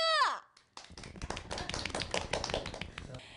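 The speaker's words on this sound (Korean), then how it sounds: "큰 따님 박수!" On a Korean television variety show, an excited voice exclaims briefly, then a studio audience claps for the eldest daughter, a women's baduk league MVP. The dense applause lasts a few seconds before tapering off.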